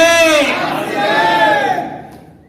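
A crowd at a gathering shouts "Jai" together in reply to a call, a loud burst of many voices with no one else speaking, fading out toward the end.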